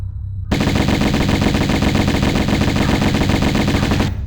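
Sustained rapid Uzi fire from the Tomb Raider Remastered game, loud and continuous for several seconds with a dense rattling burst pattern, starting abruptly and cutting off sharply.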